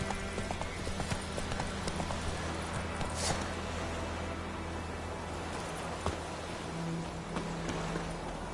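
The horse Roach gallops in The Witcher 3, hooves clip-clopping in a quick rhythm over a steady bed of rain and ambient noise, with a few sharper splashes and thumps.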